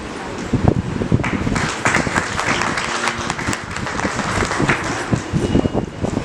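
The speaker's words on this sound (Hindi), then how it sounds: "जोरदार तालियों से स्वागत कीजिए नरेंद्र कुमार जी का।" A crowd at a housing society's annual general meeting claps steadily in a dense, sustained round of applause, with voices talking over it.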